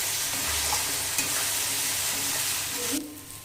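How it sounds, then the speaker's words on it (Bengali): Soaked potatoes coated in spice masala fry and get stirred in a pan, a continuous sizzle with scraping strokes throughout that softens abruptly near the end. "আলুগুলো খুব মশলা মতো খুব ভালো করে আলুগুলো কষিয়ে নেবে"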